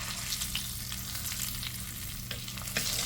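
Crappie fillet frying in a pan, a steady close hiss and crackle of hot oil with occasional brighter pops, continuous and fairly quiet, no talk.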